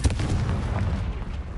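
A Confringo fire spell blast in the Hogwarts Legacy video game, heard as a loud, sustained booming rumble with a dense low-end roar that holds steady for about a second and a half, with no talking over it.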